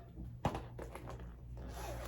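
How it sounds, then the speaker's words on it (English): Zipper pulled on a Louis Vuitton monogram bag with gold hardware, one short sharp zip near the start, followed by quieter rustling and handling of the bag. "It does have one zipper."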